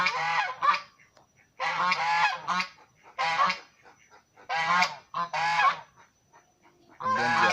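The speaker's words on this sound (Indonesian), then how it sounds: "ini dia bebek angsanya ya, saya perlihatkan kepada Anda semua" Domestic geese at a home in Aceh honk loudly in repeated bursts of harsh, nasal calls, several overlapping, close by with short pauses between volleys.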